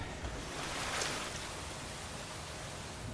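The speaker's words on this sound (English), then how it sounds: "I'm going to go do something more fun, which is fall off a waterfall." A plunge off a waterfall in the Super Nintendo game Secret of Mana, heard as a steady broadband rush of falling water, loud and even throughout, swelling slightly in the middle with no voices.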